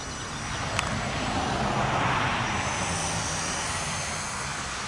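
A small E-flite MSR radio-controlled helicopter flies nearby with a steady whirring motor and rotor drone that swells slightly and then eases off, continuous and fairly loud, with no talking.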